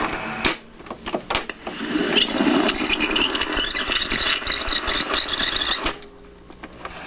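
The reel mechanism of a General Electric M 8040A Swinger tape recorder runs with a close, busy mechanical whir and rattle, punctuated by a few sharp clicks and knocks, its brake not working.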